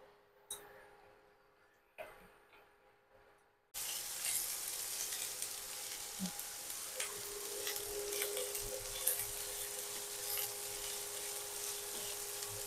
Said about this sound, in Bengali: এবার বেরেস্তাটা করে নেব, তার জন্য তেল দিয়ে নিচ্ছি অল্প